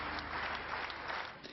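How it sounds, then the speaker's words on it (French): A crowd gives a presidential candidate warm, dense applause, a steady close wash of clapping that holds at an even level for its whole short length. "Noël Mamère a été chaleureusement applaudi"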